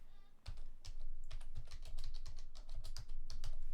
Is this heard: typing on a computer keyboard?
yes